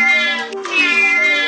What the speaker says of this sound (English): This is an African barkless dog, and its vocal cords act differently, so when it howls, it sounds like a meow.